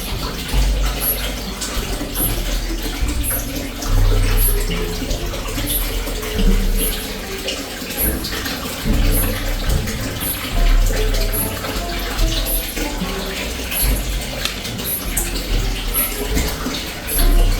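Water runs steadily into a large fish tank for a new monster fish setup, a continuous gushing pour that stays fairly loud and even throughout with no talking.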